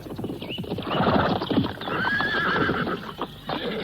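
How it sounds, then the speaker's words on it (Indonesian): Horse hooves and a whinny in an audio drama, a rapid clip-clop of galloping hooves with a neigh rising through, close and fairly loud, with no talk over it. "Dadanggi dan Galaksi harus mengakui kehebatan kuda Pamungkas"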